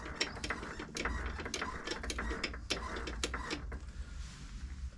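Hand tap threading a part on a lathe for RC truck parts, with a rapid run of ratcheting mechanical clicks and whirring that eases off in the last second, fairly quiet and without speech.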